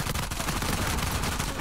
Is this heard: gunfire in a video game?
yes